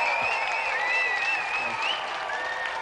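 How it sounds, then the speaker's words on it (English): Sustained applause from a studio audience after a javelin throw, steady clapping over a few seconds with a faint whistle-like tone running through it. "Round of applause for Simon."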